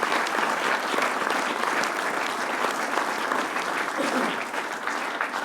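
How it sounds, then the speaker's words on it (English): Loud, dense applause from an audience at a VM Workshop 2022 opening keynote, steady and continuous throughout, with a few voices mixed into the crowd near the end. "So just a quick round of applause, if you would, for all of these wonderful people"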